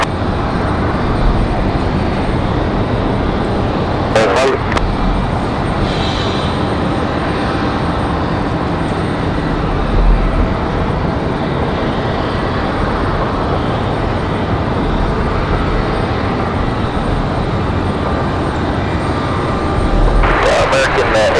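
At night an airliner lands at Raleigh Durham airport, heard as a steady, broad jet roar that holds for the whole stretch. Tower radio voices speak over it at times.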